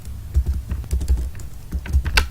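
Rapid typing on a computer keyboard while writing code for JSON parsing, a close, steady run of clicky keystrokes with a few louder taps, alone without speech.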